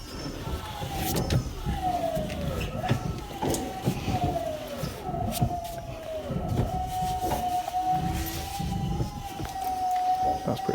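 Electric power steering pump taken from an Astra, fitted to a 3UZ-powered RX8 drift car, whines steadily at close range, a sustained tone rising and settling in pitch over road and engine noise with scattered clunks.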